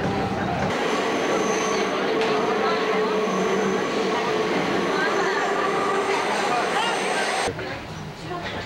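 A Sendai subway Tozai Line train runs with a loud, steady rumble and rail roar that fills the whole stretch and eases near the end, while voices talk over it.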